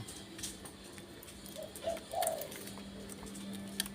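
A wild mountain dove coos a few soft, low notes in a short run. It is faint and set against a quiet outdoor background hum.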